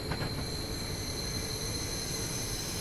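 A train in Train Simulator 2015 runs with a steady, loud rumble and thin, sustained high metallic squeals from its wheels as it nearly comes off the tracks.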